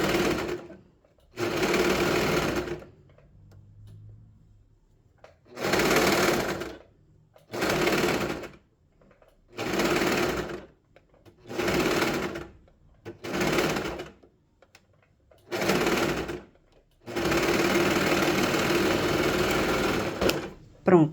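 A sewing machine stitches fabric for a dog sweater in loud, steady bursts of whirring, about eight runs separated by short pauses, with brief speech in between.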